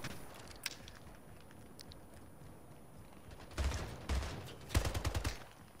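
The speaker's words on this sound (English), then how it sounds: "They were just shooting at me." Gunfire in the video game Splitgate, several bursts of shots in the second half, loud and close against faint game ambience, with no talking.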